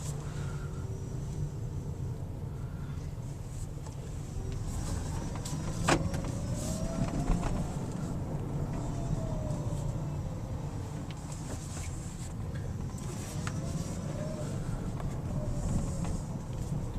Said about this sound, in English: we're driving our electric car.